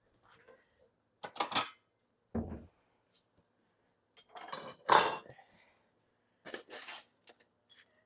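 Plates and cutlery clink in a home kitchen as someone fetches another plate while serving homemade oven-baked French fries, a few sharp separate clatters spread across quiet pauses.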